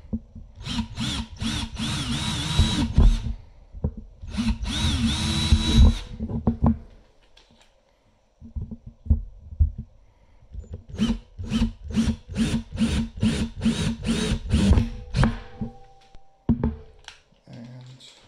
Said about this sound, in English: So now, see all the holes drilled here?